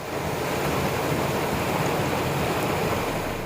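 Steady, dense roar of heavy monsoon rain pouring down without letup in rural Khambhalia, Devbhumi Dwarka, Saurashtra, loud and close, with no voices.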